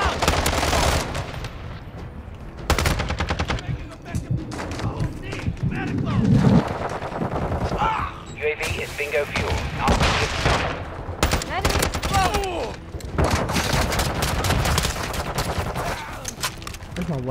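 Rapid bursts from the ISO Hemlock assault rifle in Modern Warfare 2 gameplay mix with other gunfire and explosions, loud and nearly constant, while voices talk throughout.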